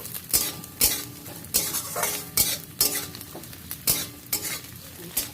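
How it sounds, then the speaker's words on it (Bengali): Grated coconut stirred in hot oil with tempering spices for moong dal, a spatula scraping the pan in regular strokes about every 0.7 seconds over a steady light sizzle, close and clear with no talk. "নারকেলটা একটু তেলে দিয়ে নেড়ে নিলাম"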